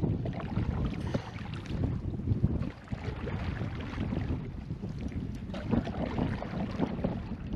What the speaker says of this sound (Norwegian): Nå blåser jo vinden med helt siden, ikke sant?